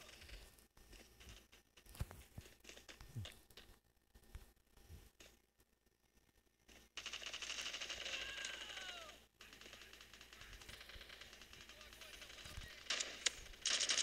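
Gunfire from the Bullet Force shooter game. Scattered shots and clicks come first, then a louder stretch of sustained firing and game effects that continues to the end.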